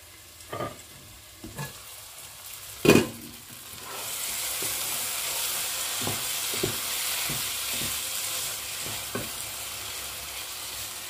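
Chicken sizzles steadily in a hot pan, with a few scraping stirs and clinks of a utensil against the pan.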